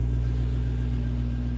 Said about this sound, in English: let's go take a ride in the Demon. I'll just let it warmed up